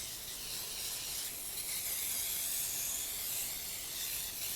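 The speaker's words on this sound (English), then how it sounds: "I'm just going to spray it with some nonstick cooking spray" Nonstick cooking spray hisses steadily and close up into a baking dish for a butter poke cake. The hiss is one continuous, even spray with no talking.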